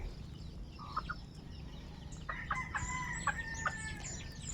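Backyard chickens in the Philippines cluck and squawk in a busy, overlapping burst that grows louder partway through, with calls repeating close by over a low rumble of ambient noise.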